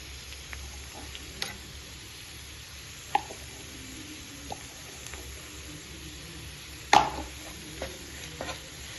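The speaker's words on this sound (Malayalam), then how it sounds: "അതിൻ്റെ അകത്തോട്ട് നമുക്ക് വെളുത്തുള്ളി ഇഞ്ചി പേസ്റ്റ് ഇട്ട് കൊടുക്കാം" Garlic-ginger paste and onions cook in oil for chana masala, with a faint, quiet sizzle and sparse light clicks and taps of stirring spread across the stretch, close by and without speech.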